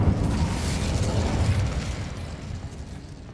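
A fire spell, Incendio, cast in the Hogwarts Legacy video game: a loud, dense whooshing burst of flame with a heavy low rumble that rolls on for several seconds and slowly eases off.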